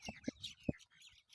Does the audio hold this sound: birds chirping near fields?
yes